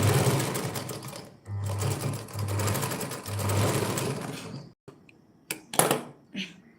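An electric sewing machine stitching a long frock for a haldi function whirs in rapid, loud bursts with short pauses between runs, then stops and gives way to a few sharp clicks and handling knocks near the end.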